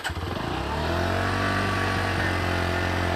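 An NS 125 motorcycle cranks and fires up, then settles into a loud, steady, close idle with a throbbing low exhaust note. No other sounds are present.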